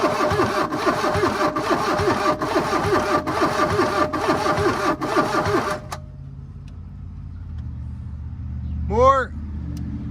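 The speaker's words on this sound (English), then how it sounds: "Ricky's going to go inside and turn the engine for us" A 1980 VW Caddy engine cranks over and over in a fast rhythmic churn for several seconds, then stops, leaving quiet background and a short squeaky noise.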